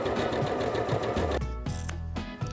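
A sewing machine stitches quilt pieces together along a marked line, a steady close mechanical whirr of rapid needle strokes that pauses briefly and restarts with a slightly different drone.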